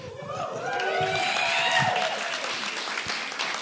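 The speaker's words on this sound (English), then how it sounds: "You must be applauding" An audience at a live stage show in a museum venue applauds steadily throughout, a dense, close wash of clapping with some whoops and whistles on top.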